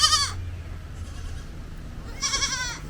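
Goats on an Amish farm give two loud, nasal bleats, one at the start and another near the end, separated by quieter outdoor background noise.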